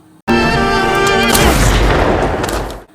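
A single loud pistol blast at the start, then a broad rumbling decay that lingers for about two seconds before cutting off.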